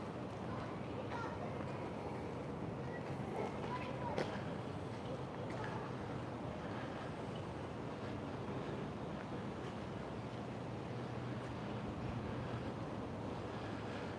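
Strong wind on the Rostov-on-Don riverside embankment, a constant roaring rumble buffeting the microphone throughout, loud and unbroken, with a person talking over it.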